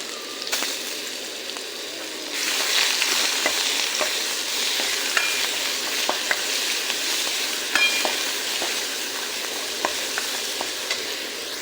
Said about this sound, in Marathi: गरम झाला त्याच्यात टाकले थोडे खडे मसाले, थोडे ते परतून घ्यायचे असे